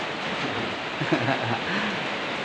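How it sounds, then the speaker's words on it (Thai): Heavy rain pours down in a dense, steady hiss at Phu Phan, Kalasin, Thailand, with a voice murmuring faintly for a moment partway through. "ฝนตกฝนตกแรงครับ"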